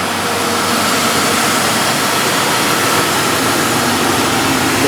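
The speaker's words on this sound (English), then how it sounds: "Let's listen to the engine." A 2001 Dodge Dakota 4.7L AWD engine idling with an electric fan running, a steady broadband rushing drone with a low rumble, loud and unbroken throughout.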